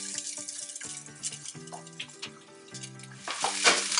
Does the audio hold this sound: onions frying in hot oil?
yes